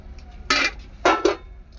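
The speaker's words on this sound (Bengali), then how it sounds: "দেখো আমি বটি দিয়ে আদা ছুলছি না, চামচ নিয়ে নিয়েছি।" A spoon scraping the skin off fresh ginger: two or three short, close scratchy strokes with brief pauses between them, in a quiet kitchen.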